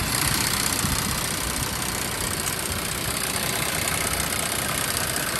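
A Land Rover Defender 110 TD5 diesel engine idles at close range, a loud, steady, rough clatter that holds continuously with no voices.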